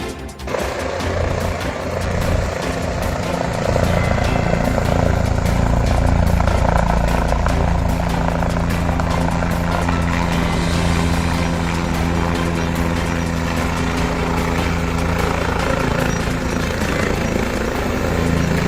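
A helicopter's loud, steady rotor drone fills the whole stretch, a constant throbbing roar with no pauses.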